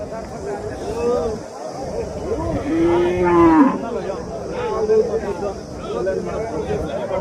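Cattle at the Chintamani cattle market in Karnataka lowing, with several drawn-out moos, one long and prominent, rising over a busy crowd murmur and people talking nearby.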